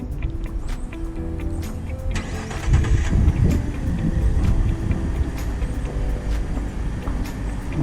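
A Ford F-150 EcoBoost truck engine cranks and catches, then settles into a steady, close idle with a low continuous rumble and no talking.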